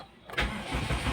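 A Toyota engine with a no-crank, no-start fault cranks briefly and loudly, close by, in a short burst of starter churning.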